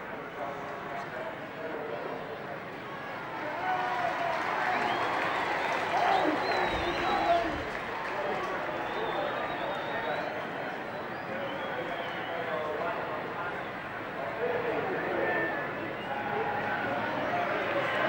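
A huge crowd of about 58,000 roars at the 1974 grand final at Football Park, a dense, continuous wash of cheering and applause under a faint commentator's voice.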